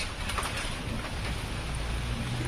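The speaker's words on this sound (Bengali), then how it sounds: "আর এদিকে বৃষ্টি আছে" Rain falls in an even, hissing patter at moderate level, a continuous wash of drops with no voices over it.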